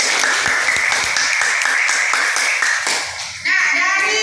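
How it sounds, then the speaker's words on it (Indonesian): Students in a classroom clap for a classmate, a lively round of close, distinct handclaps that thins out before a voice breaks in at the end. "Iya, tepuk tangan untuk Bintia."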